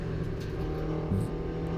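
A 2018 Mini Cooper S race car in the Mini Challenge at Snetterton, its engine held at high revs in a steady, buzzing drone from close by, with a brief shift in pitch.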